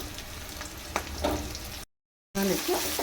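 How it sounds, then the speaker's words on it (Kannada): Onion and curry leaves sizzle in hot oil for a brinjal curry, a steady close frying hiss with a few stirring scrapes, broken by a brief silent gap before the sizzle returns louder. "ನೋಡಿ, ಸ್ವಲ್ಪ ಈರುಳ್ಳಿ ಎಲ್ಲ ಸ್ವಲ್ಪ ಫ್ರೈ ಆದಮೇಲೆ ಬದನೆಕಾಯಿನ ಹಾಕ್ಕೊಳ್ಬೇಕು."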